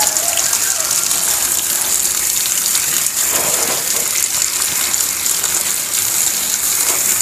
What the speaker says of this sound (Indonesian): Kalau kita tidak siram dulu secara kocor